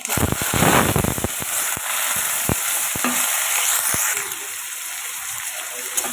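Bay leaf and cumin hit hot oil in a pan for a tempering, crackling with dense popping and spitting bursts that fade into a steady, loud sizzle.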